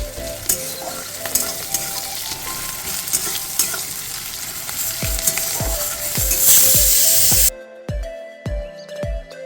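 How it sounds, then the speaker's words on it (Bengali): Sliced onion dropped into hot oil with black cumin and dried red chilli hisses in a steady, loud sizzle, followed by a run of rhythmic scraping stirs in the pan as the frying noise suddenly thins out near the end. "কালো জিরে আর শুকনো লঙ্কা তেলের উপরে দিয়ে পেঁয়াজটা দিয়ে দিলাম।"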